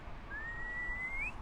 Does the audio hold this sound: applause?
no